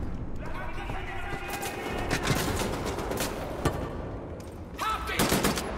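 Gunfire from a weapon in Wolfenstein: The New Order, a dense run of shots and impacts under continuous game noise and music, with louder bursts toward the end.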